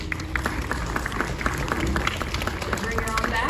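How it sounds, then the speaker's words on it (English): An audience claps for a king snake at a SeaWorld Orlando animal show, a loud continuous crowd applause filling the whole moment, busy and close with crowd murmur mixed in. "Let's give her a round of applause."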